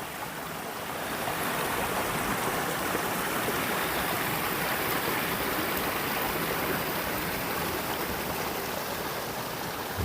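Bull Creek flowing at a campsite, a steady close rushing of water that holds at an even loudness throughout, with no voices.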